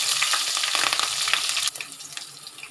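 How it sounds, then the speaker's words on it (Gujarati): Mustard seeds and green chillies fry in hot oil, making a loud, dense crackling sizzle that drops abruptly to a quieter hiss partway through, with no talking. "આપણી રાઈ ફૂટી ગઈ છે તો આપણે એમાં 2 મરચાં નાખીશું."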